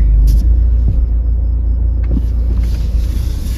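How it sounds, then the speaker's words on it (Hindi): A car rolls slowly on a road at night, with a loud, close low rumble that holds steady throughout, a few soft knocks in it and no talking. "गाड़ी अपने आप मूव कर रही है"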